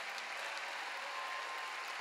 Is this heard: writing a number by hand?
no